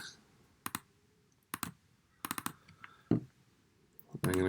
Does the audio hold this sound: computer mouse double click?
yes